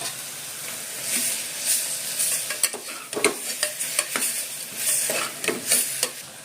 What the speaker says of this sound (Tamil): இப்போ கீரை நல்லா வதங்கிடுச்சு